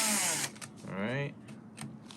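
A power drill runs in a short whirring burst while tightening a screw during an Apple CarPlay install in a 2015–2017 Infiniti Q50, with a voice speaking before and after the motor.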